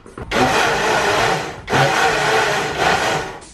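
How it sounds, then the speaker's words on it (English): Blend Active personal blender whirring through protein pancake batter in two loud, sustained bursts with a brief pause between, no talking. "put it straight to the blender"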